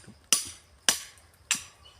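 Three sharp, ringing hammer blows about 0.6 seconds apart drive climbing pegs into a tree trunk, climbing toward a wild giant honeybee nest high up, each strike fairly close and decaying quickly over faint background noise.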